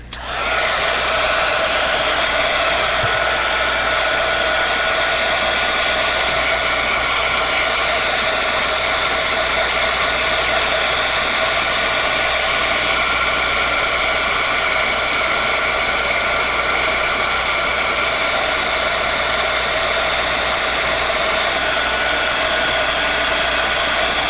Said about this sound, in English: I'm just going to give it a quick dry with my heat tool.